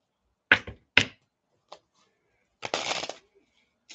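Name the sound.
shuffling tarot cards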